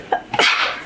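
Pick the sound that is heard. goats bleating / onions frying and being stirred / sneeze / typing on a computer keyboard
sneeze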